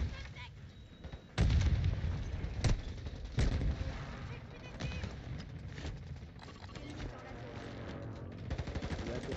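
Pistol gunfire in an online shooter game, several loud sharp shots spread across a busy battle soundscape with other game effects and someone talking over it.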